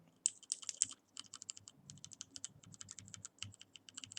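Mechanical keyboard switches pressed one after another on a KBDFans SuperSwitchTester, a quiet rapid series of close, crisp clicks and clacks, with a few sharper clicks at the start.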